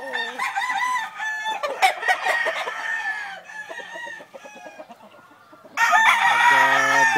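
A gamefowl rooster bred for breeding stock and fighting events crows repeatedly and loudly, with clucking from other fowl around it and a closer, louder crow bursting in near the end.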